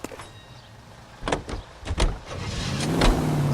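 In the video game L.A. Noire, a car is boarded and driven off: door and cabin thumps are followed by an engine that starts and builds in a rising drive sound near the end.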